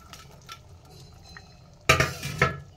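A spoon scrapes and clinks through a pot of fish curry with potato and taro, a few soft stirs followed by two louder scraping knocks against the pot, with no voices.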